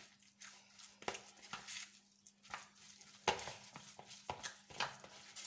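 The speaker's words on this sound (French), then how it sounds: "Donc on va mélanger tout ça. Qu'il nous fasse une bonne petite pâte bien homogène." A spoon stirs soft cream cheese and other ingredients into a smooth dough in a bowl, giving quiet, scraping strokes in an irregular rhythm up close, with a steady low hum behind.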